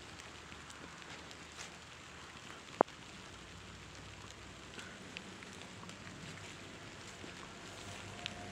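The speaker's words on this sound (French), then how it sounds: "Il pleut là pour l'instant, c'est assez mouillé dehors" Light rain falling outdoors, a faint, steady patter of drops on surfaces with an occasional sharper drip, with no voices.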